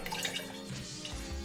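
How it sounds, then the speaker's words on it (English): Thick liquid dye poured into a container for dyeing fingerboard plies, a close, soft gurgling trickle with small drips, steady and quiet. "I'll know more when I pour some in there."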